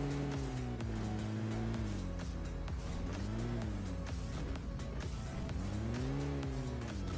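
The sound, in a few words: car driving and revving in a video game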